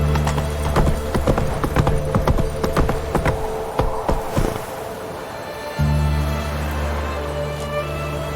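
Hooves of Roach, a horse in a video game, clip-clopping in a steady trotting rhythm, close and loud over a low humming background, with a brief pause before the steady drone resumes.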